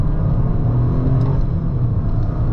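A 2024 Toyota GR Corolla engine pulls hard at full throttle from inside the cabin, a loud, steady low-pitched drone with road rumble that holds throughout, with no talking.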